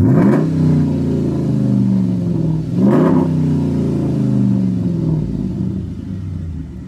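A pickup truck with straight pipes revs twice, close and loud. Each blip swells from a deep rumble and then falls back to a low idle.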